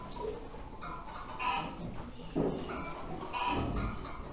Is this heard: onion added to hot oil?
no